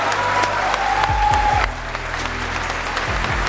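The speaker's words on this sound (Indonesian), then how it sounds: "Tepuk tangan buat Aida." Audience applause at an Indonesian public forum on disability access, a steady burst of clapping that carries through most of the short clip, with a brief tonal sound partway through.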